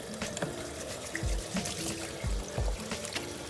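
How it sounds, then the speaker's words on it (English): Tap water runs steadily as hands are washed under it, with soft splashes and rubbing, close and moderately quiet. "Make sure you wash your hands."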